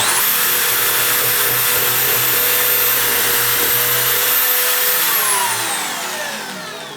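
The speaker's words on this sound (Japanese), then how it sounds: "次は刃を変えて 10mm のドリルの刃で開けていきます" A power drill fitted with a 10mm bit bores a hole in wood, whining steadily and loudly for several seconds before spinning down at the end, with no voices.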